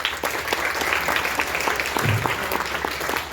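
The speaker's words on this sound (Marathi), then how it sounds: "त्याबद्दल या सगळ्या विद्यार्थ्यांसाठी एकदा जोरदार टाळ्या वाजवा" Applause for students at a school science exhibition opening, a dense burst of many hands clapping steadily and loudly throughout, with no voices on top.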